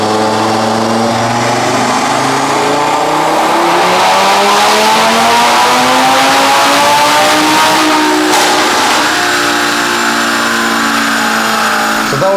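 An Audi RS3 revs hard through a dyno power run, the engine note climbing steadily through the gears in loud, close sweeps, dropping briefly and rising again before easing off near the end, with no voices.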